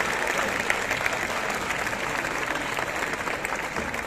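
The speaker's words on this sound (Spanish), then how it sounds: "un aplauso para María" A crowd at the Lerma town festival proclamation applauds in a steady, sustained wash of clapping, heard from within the hall at a moderate distance.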